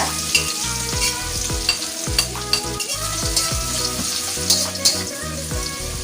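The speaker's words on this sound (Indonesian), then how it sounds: "Kita masukin bawang merahnya sama bawang putihnya dulu ya." Shallots and garlic sauté in a hot pan for a fish dish, a steady loud sizzle broken by repeated scraping stirs of the spatula, with no voices.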